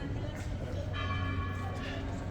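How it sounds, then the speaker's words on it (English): Bells of the 17th-century San Ginés Church in Madrid's old town ring with sustained, layered tones over a busy outdoor street background, steady and moderately loud throughout. "The bells of the San Ginés Church, which was built in the 17th century."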